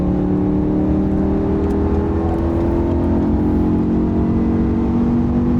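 BMW M5 engine held at high revs at speed, a loud continuous droning whine with steady rising harmonic tones and heavy road and wind rumble beneath, no talk.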